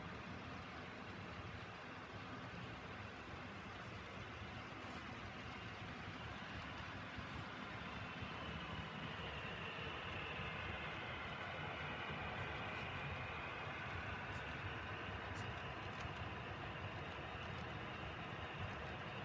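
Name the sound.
model locomotive engine sounds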